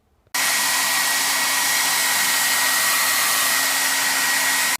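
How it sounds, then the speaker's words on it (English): A blow dryer switches on after a brief moment of quiet and runs steadily and loudly, drying a damp patch on a chipped fiberglass bathtub, with a constant whine over broad airflow noise. "I'm going to just run this blow dryer over it for a few seconds to help make it as dry as"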